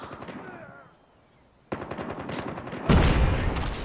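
Rapid automatic gunfire breaks out in a firefight in the mobile shooter game Call of Duty Mobile, a dense burst of shots after a short lull, ending in a heavier, louder blast.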